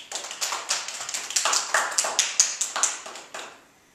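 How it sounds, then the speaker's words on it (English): Members of a church congregation clap their hands in a game, a ragged run of about a dozen sharp claps in an irregular rhythm that stops abruptly. "Simon says, clap your hands."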